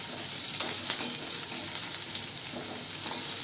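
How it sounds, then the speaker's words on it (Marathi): Pieces of ivy gourd fry in oil, a steady, fairly loud bright hiss with a few faint pops and spatula touches, no voices. "आता हे आपण तेलात टाकून घेऊ. आणि इथं तोंडली आपल्याला छान परतून घ्यायच्या तेलात."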